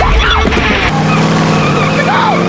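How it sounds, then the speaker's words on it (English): A truck driven off by a killer, with a loud engine roar and tire skid at the start, then a lower, steady engine rumble with brief squeals as it pulls away. "the killer drove off in their truck."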